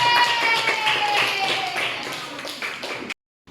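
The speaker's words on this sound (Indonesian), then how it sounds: "Aplaus dulu untuk semuanya" A classroom group of students claps together in a burst of applause that lasts about three seconds, close and lively, with a voice over the start, then stops abruptly.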